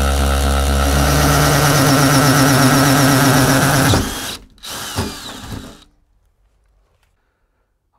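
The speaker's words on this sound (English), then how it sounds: "ready to drill some holes" A power drill whines loudly and steadily for about four seconds while drilling holes in a Toyota Proace van body, then winds down with a few short bursts and clatter before falling silent.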